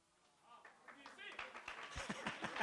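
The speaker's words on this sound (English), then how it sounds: "I've never had people clap for me for praying." Audience clapping after a prayer at a book launch, faint at first and building into scattered, quicker hand claps that grow louder over a couple of seconds.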